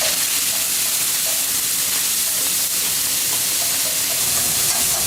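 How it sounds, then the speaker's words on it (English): Fresh lamb liver sizzles on a hot plate in a Riyadh sandwich shop, a loud steady hiss of frying filling the scene without pause, no voices over it. "they're about to start frying up a fresh batch"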